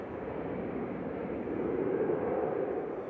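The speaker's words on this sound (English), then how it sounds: "Finnair operated by Nora, heading back to Helsinki there." A Finnair airliner departs Manchester Airport bound for Helsinki, its engines a steady, broad roar that swells slightly midway and holds at a moderate distance, with no voices over it.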